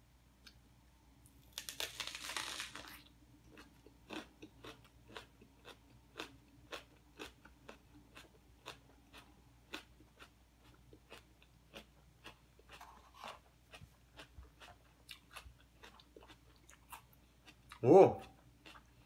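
Raw onion chewed close up, a long series of crisp, regular crunching bites with wet mastication between them, fairly quiet overall, with a rustle near the start and a short louder sound near the end.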